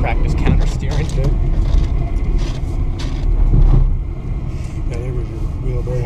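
Car engine rumbling and revving steadily nearby as it drives across a snowy parking lot during a drifting session, with people talking over the motor noise throughout.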